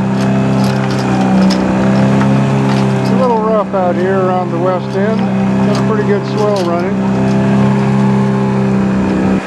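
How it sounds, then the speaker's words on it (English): A sailboat's loud, steady motor drones throughout while someone talks over it, the motor's hum dominating the whole stretch. "Motor's probably pretty loud on here"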